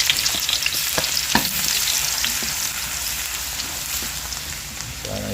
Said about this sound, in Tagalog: gisa lang po natin yung ating bawang